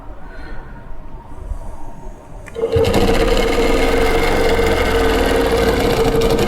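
A longarm quilting machine runs steadily while stitching Baptist fan and straight-line patterns on a quilt, a loud continuous mechanical hum with a sustained tone that starts abruptly partway through after quieter handling noise.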